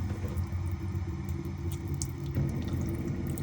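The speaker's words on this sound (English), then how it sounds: "come over to the tap, the kitchen tap ideally, and draw the water through on the tap" Cold water runs steadily from the kitchen tap of a Rapido 927F motorhome, a close, constant splashing stream into the sink with a slight shift in tone partway through.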